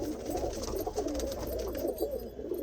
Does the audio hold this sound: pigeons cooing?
yes